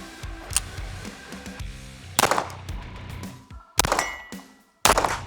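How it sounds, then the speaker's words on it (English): Several loud gunshots from a Jacob Grey NOX9 crack out at close range in separate bursts, each ringing sharply against a low background rumble, with brief quiet gaps between them. "Let's put some more rounds through it."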